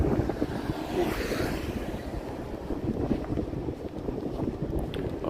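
Strong outdoor wind buffets the microphone, a continuous rough rumbling roar with gusty swells, loud and close, with no other sounds standing out.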